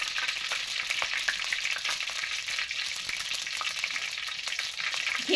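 Potato samosas frying in hot ghee, a dense continuous bubbling sizzle with faint crackles throughout, close and steady, with no voices.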